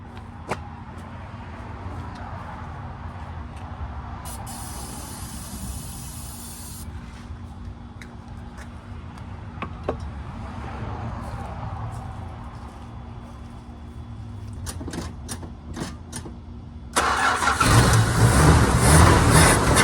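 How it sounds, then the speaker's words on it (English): Carb cleaner hisses in a short spray burst down the carburetor of a 1980 Chrysler Cordoba slant six, followed by scattered clicks, then a loud broadband roar as the engine catches near the end. "I'm gonna squirt a little bit of carb cleaner down the carburetor and see if we can't light her up."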